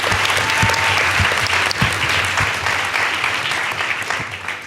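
An audience at the Apartheid Museum's June 16 Youth Day debate claps in sustained, dense applause, loud and close, fading slightly toward the end.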